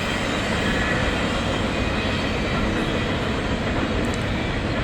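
Fast freight trains tear through Kentucky in a loud, unbroken rolling roar, heard close and continuous throughout.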